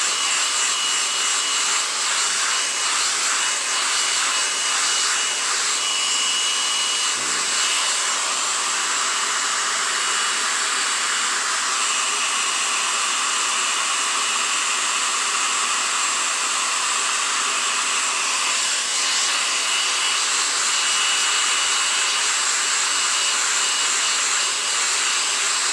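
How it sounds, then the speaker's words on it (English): An old hair dryer blows steadily on drying hair, a continuous loud broadband whoosh with a slight motor whine that holds level throughout, with no talking. "This is my old trusty dusty art hair dryer."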